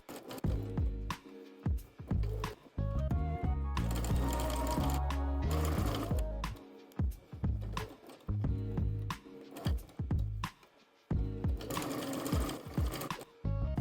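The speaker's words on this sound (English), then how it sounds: "edge stitch until you get all the way to the other side of the hem" A domestic sewing machine edge stitches along the hem of a shirt dress, running in loud bursts of rapid stitching with short pauses between, close by and with no voices.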